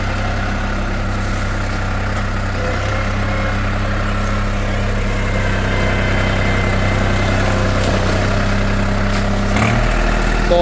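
New Holland 5510 four-wheel-drive 50 HP tractor engine idling steadily, a loud, close low diesel drone with constant vibration and a brief shift near the end.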